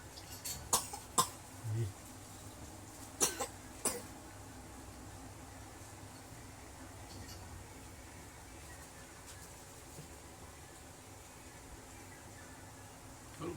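A small child coughs several times in short bursts during a massage, with a few sharp coughs close to the mic in the first four seconds, then quieter rustling.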